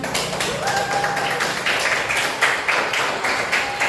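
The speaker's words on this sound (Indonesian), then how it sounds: "Nah, itu kita beri tepuk tangan." Applause from a class audience in a classroom, steady clapping for a few seconds with no talk over it.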